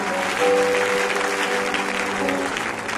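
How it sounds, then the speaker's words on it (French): A church congregation applauds and cheers steadily at worship, a dense, loud wash of clapping with voices and sustained musical tones running underneath. "Alors acclame vraiment, acclame avec ferveur."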